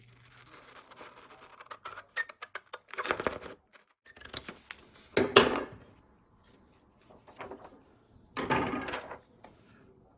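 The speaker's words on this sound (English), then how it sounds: "you're going to grab your scissors and trim it off" Scissors snipping through a paper pattern in a few short bursts, with light handling and rustling between cuts, close by.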